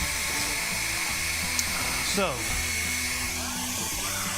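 A blow dryer whirs continuously at close range in a steady airy roar, with someone speaking briefly over it and a short wavering shift in pitch partway through.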